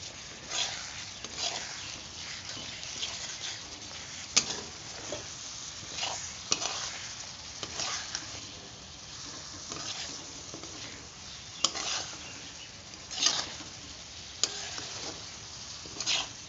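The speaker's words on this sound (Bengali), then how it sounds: "এবার ভালোভাবে কষিয়ে নেবো আলুর সঙ্গে।" Turmeric and chili powder being fried with potatoes in a pan, a continuous soft sizzle under irregular scraping stir strokes and a few sharp clicks of the spatula against the metal.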